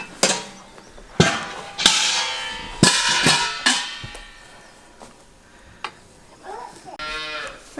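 A dairy cow lets out several loud, drawn-out moos close by, spaced across the clip between clunks and shuffling in a barn.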